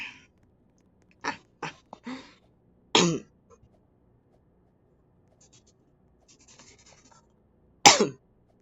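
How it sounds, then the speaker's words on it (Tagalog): A series of sharp, close coughs: a quick cluster of short hacks, then two harsher coughs spaced apart, with near silence between. "Sorry sa ubo po."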